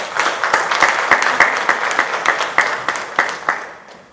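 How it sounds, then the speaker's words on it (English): A crowd applauds at a pageant, a dense, loud burst of clapping with distinct sharp claps standing out, fading toward the end. "Let's give them all a round of applause for our sponsors."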